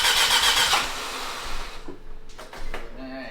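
Barn-find Mazda RX7 rotary engine cranking and catching: a loud, fast starter whir that fades into sputtering, uneven engine bursts, with a voice speaking briefly near the end.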